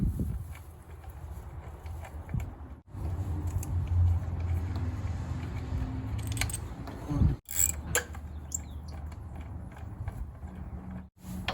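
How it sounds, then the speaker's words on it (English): Bolts being loosened and removed from the four coil packs on a Honda CR-V engine under repair for a misfire: close metallic ratcheting and creaking mechanical clicks, in bursts broken by brief pauses. "Now we have the 4 coil packs right here, and I will take the 4 bolts out."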